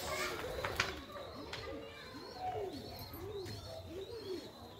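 Pigeons cooing near a rural home garden, a steady series of rounded repeated coos at close range with faint chirps and background voices.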